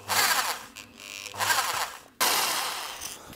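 A power drill bites into an aluminium engine part from a Peugeot 106 in three loud, close bursts, each a harsh whirring grind separated by brief pauses.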